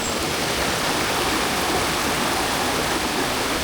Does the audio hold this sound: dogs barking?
no